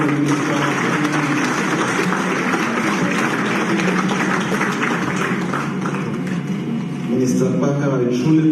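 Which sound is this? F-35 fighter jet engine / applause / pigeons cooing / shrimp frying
applause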